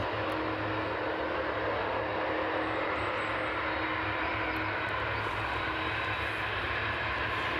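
A Boeing 747 moves on the ground at East Midlands Airport on a wet day, its engines giving a steady loud roar and whine that holds throughout without talk.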